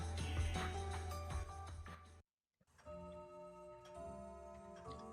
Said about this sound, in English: Then the sound of the bell rang out, proclaiming that 2400 hours had arrived.